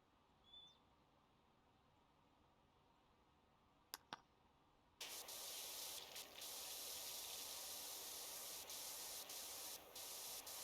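A steady, hissing pressure washer spray starts abruptly partway through and continues evenly, after a quiet stretch with a couple of brief clicks, in PowerWash Simulator.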